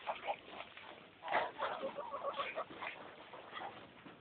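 Ducks and chickens at a farm, scattered clucks and quacks rising and falling in short bursts, moderately close and fairly quiet.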